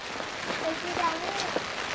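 Steady rain falls in the thatched village of Shirakawa-go, a continuous hissing patter with scattered drips, while people talk softly nearby.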